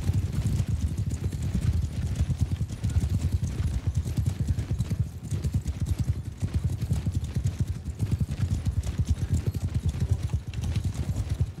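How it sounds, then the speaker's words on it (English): Horses gallop in the medieval combat game Mount & Blade II: Bannerlord, a dense, continuous drumming of hoofbeats that stays fairly loud and steady throughout, with no speech. "Man, these horses go so quick."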